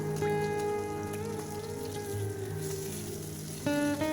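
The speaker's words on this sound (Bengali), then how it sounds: "আমার মাছগুলো ভাজা প্রায় হয়ে গেছে এইভাবে লাল লাল করে ভেজে মাছগুলোকে আমি তুলে নেব" Pieces of fresh katla fish frying in hot oil until reddish give a continuous close sizzle and crackle, steady throughout with no talking.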